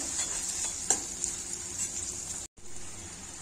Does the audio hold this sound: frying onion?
yes